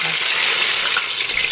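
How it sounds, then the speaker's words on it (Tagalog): Battered eggplant slices coated in flour, onion powder and spices fry in hot oil with a dense, steady sizzle, loud and close, without talking. "And then fry."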